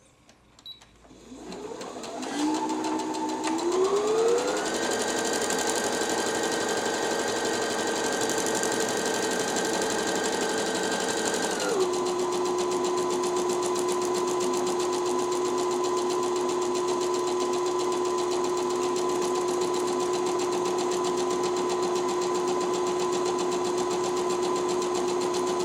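A Brother NV10 sewing machine stitches a keyhole buttonhole with its buttonhole sensor lowered, running as a steady, close motor whir with a rising pitch at the start that settles into a constant drone with no talk.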